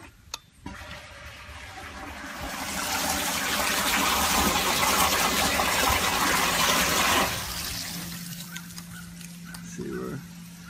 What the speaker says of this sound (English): Let's see where all the water flows up to the towers.